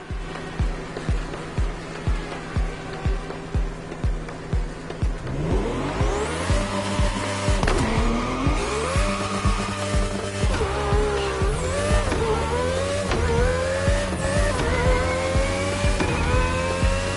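Race cars in The Crew Motorfest motorsport racing, engines revving hard through rising and falling gear shifts, a rhythmic idle pulse at first, then loud acceleration with repeated tire squeals and skids close by.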